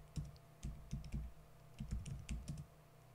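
Someone types a Linux login on a computer keyboard. Quiet keystrokes come in short, irregular bursts with brief pauses between them, close by and alone.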